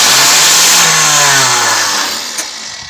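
Loud, close cranking from a 1993 Oldsmobile Cutlass Ciera with a suspected starter fault, a continuous whirring grind that never catches and gradually tapers off, with a small click near the end.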